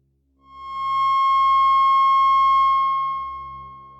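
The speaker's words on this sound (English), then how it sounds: "these tones just happen to create the most beautiful form of music, a perfect 3-part major chord in the key of F sharp" Synthesized pure sine tones sound together as an F sharp major chord: a clean, steady electronic hum that swells in smoothly, holds level for a couple of seconds, then slowly fades, alone with no voices.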